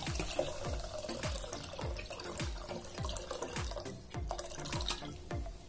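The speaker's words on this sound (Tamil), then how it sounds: "அதனால் வந்து இதை நம்ம கொஞ்சம் நிறைய தண்ணியே ஊற்றிக்கலாம்" Water poured into soaked rice for nombu kanji, heard as a rapid series of splashing drips and liquid pours, close and fairly quiet with no talking.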